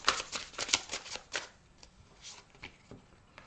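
Oracle cards being shuffled by hand during a French card reading, a quick run of crisp riffling flicks that is loud at first, then thins into softer, scattered card sounds.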